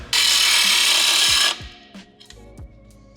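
A cordless power tool whirs loudly and steadily at rusty exhaust bolts on a 240SX field-find project car, then cuts off, followed by a few sharp metallic clanks and clicks.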